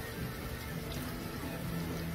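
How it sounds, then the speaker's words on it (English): Beef sizzles on a Blackstone griddle over medium heat, a steady close hiss that holds evenly from start to finish with no talking. "Sizzle. Love that sound."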